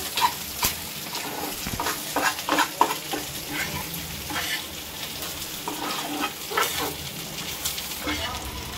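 Fish fries in a pan at a home birthday gathering, a steady crackling sizzle with stirring and scraping, moderately loud and continuous, with faint voices in the background.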